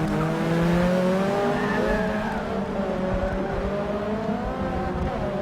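A BMW race car in a racing video game qualifying session, its engine whining at high revs with rising and falling pitch, plus tire squeal, loud and steady throughout with no talk.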